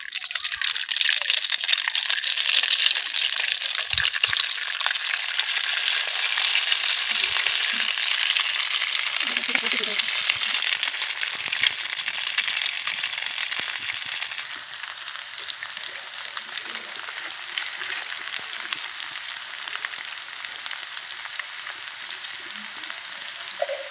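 Grated semolina dough for sitabhog fries in hot oil, giving a steady, dense sizzle that eases slightly in the second half, with occasional soft clicks and stirring touches and no talking.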